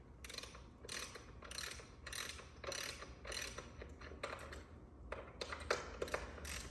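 Hand tool working bolts during assembly of an Ariel Rider X Class 52v step-through e-bike, giving rapid repeated ratcheting clicks in short bursts with brief pauses, close and fairly quiet.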